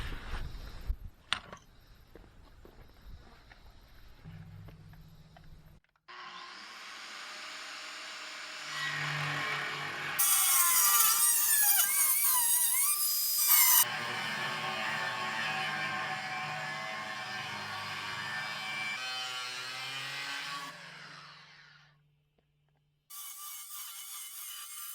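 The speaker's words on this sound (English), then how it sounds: "I'm going to cut the center of the plate out" Steel plate has its center cut out for a Kubota BX 54-inch front tractor bucket. Loud sustained metallic whirring and grinding starts and stops in several long bursts, with quiet gaps between them.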